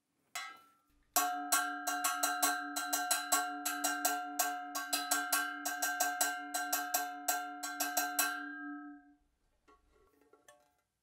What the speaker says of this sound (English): so I'll give you a demonstration of this bell